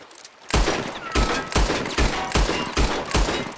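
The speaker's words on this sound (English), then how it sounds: "That lock should shoot off easy enough." A quick series of about seven gunshots in a video game shoots the lock off a horse cart. The shots are loud and sharp, evenly spaced roughly half a second apart, with no voices in between.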